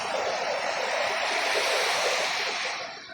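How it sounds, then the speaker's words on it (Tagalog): Large waves whipped up by Typhoon Inday crash on a beach in a continuous loud roar of surf and hiss that fades slightly at the end, with no talk. "Matataas, malalaki po ang alon."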